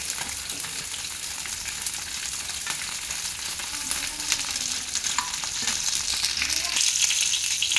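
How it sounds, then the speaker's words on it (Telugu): Steady sizzling of green chilies frying in hot oil, a dense crackling hiss that runs continuously throughout with occasional sharper pops. "పచ్చిమిరపకాయలు వేయించి తీసి పక్కన పెట్టుకోవాలి"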